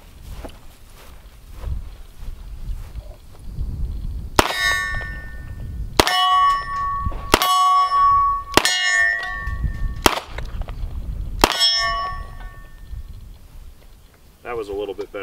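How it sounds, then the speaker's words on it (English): Six sharp, loud shots from a Colt King Cobra .357 Magnum revolver, fired outdoors at a range at irregular intervals of about one to two seconds, each with a brief ringing decay, over a low background rumble. "So let's shoot some more."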